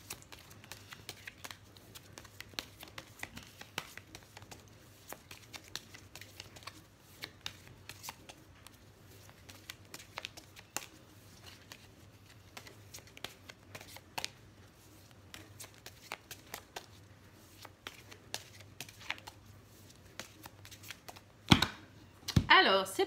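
Oracle cards for a mirror-themed reading are shuffled softly and intermittently, with faint riffles and taps against a quiet room hum, ending in a brief burst of louder card handling.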